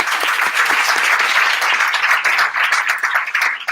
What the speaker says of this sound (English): So I want to give a set of applause just to yourself.